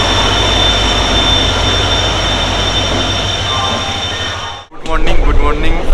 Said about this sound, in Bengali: আমাদের ট্রেন ঢুকছে এখন 18011 হাওড়া চক্রধরপুর, আর হাওড়া বোকারো